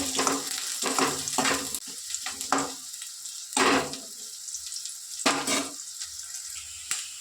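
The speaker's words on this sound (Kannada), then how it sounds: "ನೋಡಿ, ಈರುಳ್ಳಿ ಫ್ರೈ ಆಗ್ತಾಯಿದೆ." Onion frying in hot oil in a pan, a bright sizzle broken by several louder bursts of stirring or scraping, close and alone without speech.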